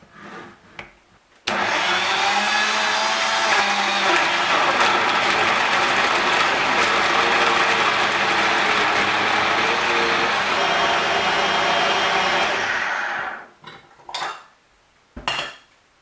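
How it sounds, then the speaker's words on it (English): A blender whirs loudly and steadily for about ten seconds, blending Cameroonian njansa sauce ingredients with a little water, starting abruptly and winding down, with a few clinks of the jar afterward. "Cover this up and blend."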